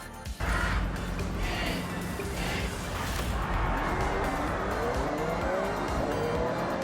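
A car launching at the start of a road race in Forza Horizon 6, engine revving up loudly and steadily with faint tire noise.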